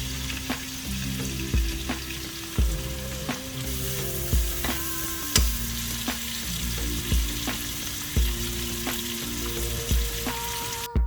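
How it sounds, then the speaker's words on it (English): Browned duck pieces and vegetables sautéing together with seasoning spice for duck soba: a loud, continuous sizzle with regular scraping stirs every second or so, close up and without talk. "I cooked my duck right up until I saw some browning, and then I added in my vegetables with some of that seasoning spice and sauteed that all together"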